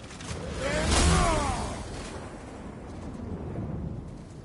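A thunderstorm in the God of War video game sends a rising whooshing thunder rumble that peaks early and fades, a single loud roll over a steady rain-like wash, with no talk.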